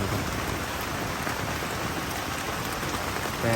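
Heavy rain pours steadily on a camp on Mount Ciremai, a dense, continuous hiss of drops hitting surfaces, loud and unbroken throughout with no voices.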